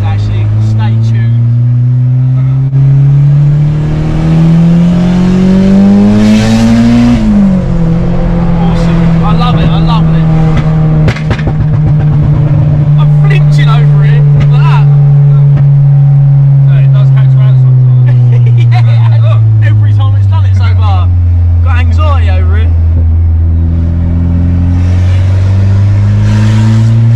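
Turbocharged 350bhp Honda Civic EP3 engine, loud and close, revving up, dropping back, then pulling steadily under load while driving, with a continuous rising and falling engine drone throughout.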